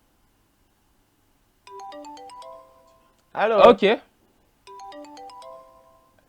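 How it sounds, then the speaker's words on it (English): Two bursts of a phone line's ringback tone, each a short warbling electronic pattern about a second long, separated by a pause in which a voice briefly speaks; the rings sound clear and close. "So the line is ringing"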